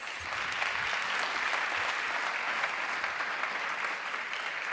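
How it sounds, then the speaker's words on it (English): A hall audience at the World Food Forum closing ceremony gives the panelists sustained applause, an even, dense wash of many hands clapping at steady volume throughout, with no voices. "Another round of applause to our panelists."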